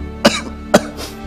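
A person with a long-standing cough coughs twice, about half a second apart: two sharp, close, loud bursts with nothing else around them.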